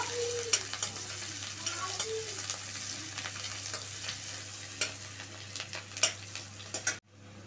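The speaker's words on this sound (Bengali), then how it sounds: "আদা কুচি, একটু হালকা করে ভেজে নেব" Chopped ginger and garlic fry in oil in a pan with a constant close sizzle and light clicks of stirring, then the sound cuts off abruptly near the end.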